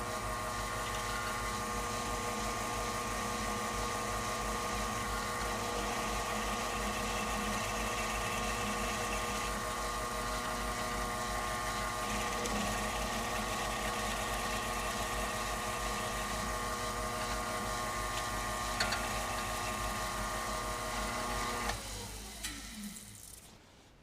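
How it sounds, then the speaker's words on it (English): A milling machine flattens a piece of 1/2 inch steel with a 1/2 inch end mill, a steady whirring motor drone with a constant cutting hiss that runs for over twenty seconds, then stops near the end. "I'm going to come in here with the 1/2" end mill and just flatten that area off"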